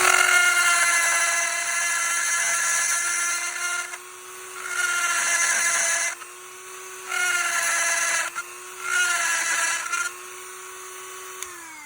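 Dremel rotary tool at 20,000 RPM carving a wooden bison, a high steady whine that bites harder in four separate passes as the bit cuts into the wood, easing between cuts.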